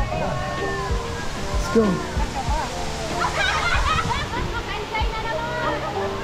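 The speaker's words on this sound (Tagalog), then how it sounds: "That's a falls." Hulugan Falls waterfall, roaring and splashing steadily under excited voices and shouting.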